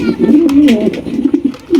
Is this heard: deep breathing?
no